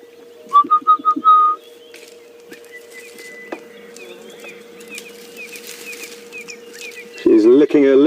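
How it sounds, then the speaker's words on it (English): An orange-breasted bushshrike calls during a safari game drive, giving a short run of clear, evenly spaced whistled notes near the start over a steady vehicle hum. Soft scattered sounds follow, and a voice comes in at the end. "You can hear an orange-breasted bushshrike."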